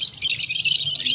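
Lutino birds, likely lovebirds or cockatiels, chattering in a continuous high, busy chirping, close and fairly loud, with no talk.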